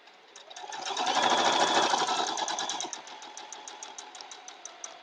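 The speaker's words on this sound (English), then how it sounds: "So I'm just taking my time sewing over that pin." A sewing machine stitching steadily over a pin while piecing a quilt block, a fast even mechanical whir with rhythmic needle clatter that swells then settles into lighter ticking.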